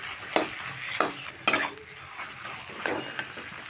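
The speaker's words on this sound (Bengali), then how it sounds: "এবার আলুগুলো আমি মশলার সঙ্গে খুব ভালো করে নেড়ে নিচ্ছি।" Boiled potatoes stirred with spices in a pan, a metal spoon clattering and scraping in uneven strokes over a soft frying sizzle, close and clear.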